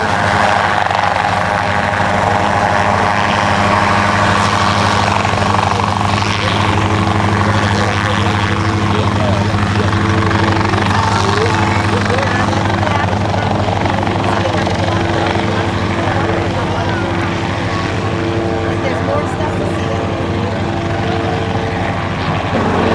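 Schweizer S269 piston-engine helicopter taking the runway at a rotorcraft fly-in, its steady reciprocating engine drone and rotor thrum loud and continuous throughout, with a commentator talking over it.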